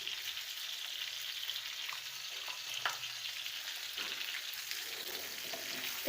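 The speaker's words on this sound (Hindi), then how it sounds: "इसको हम अच्छे से फ्राई करेंगे।" Spices sizzle and fry steadily in hot oil for a fish curry, a continuous close crackle with occasional stirring scrapes and no talking.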